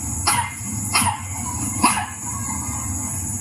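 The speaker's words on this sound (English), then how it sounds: "The dog." A dog barks three times, sharp and moderately close, over a steady outdoor background hum, with no one speaking.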